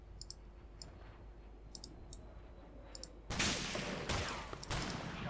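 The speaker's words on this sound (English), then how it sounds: "Just stopping to fire off some Ralphus rounds at the enemy there." Gunfire in the wargame Combat Mission Shock Force 2, faint clicking shots and then a louder rumbling volley of rifle and rocket fire, distant and without talk.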